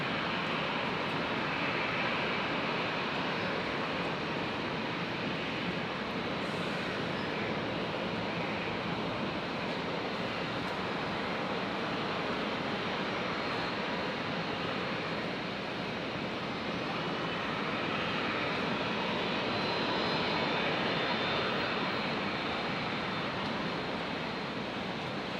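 A jet airliner approaching Brisbane Airport to land on runway 19 left gives a steady, broad roar that holds for the whole stretch, swelling slightly near the end, with no voices.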